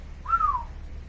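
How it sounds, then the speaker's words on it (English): A person whistles once, a single clear note that rises and then glides down. It lasts about a third of a second and is heard alone over a low background hum. "Someone whistled."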